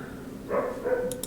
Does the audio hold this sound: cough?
no